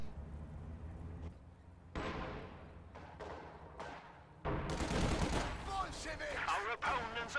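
Gunfire in a real-time strategy battle featuring an IS-2 tank, grenadiers and rifle grenades: scattered sharp shots with decaying tails, then a louder dense burst of firing and explosions under a commentator's voice.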